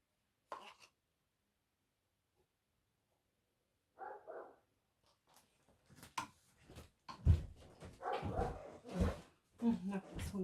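A dog barks indoors during a paint pouring art session: one short bark near the start and a tight pair a few seconds later, followed by people talking and scattered clatter.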